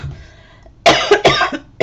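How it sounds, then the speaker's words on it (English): A person coughs several times in short, sharp bursts during furniture assembly, close and loud, with a brief quiet stretch before the fits begin. "I'm coughing and choking"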